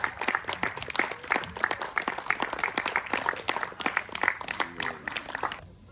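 Cabaret audience applauding a singer named Eric, steady dense clapping with a few sharp individual claps standing out, filling the room for several seconds before stopping abruptly near the end.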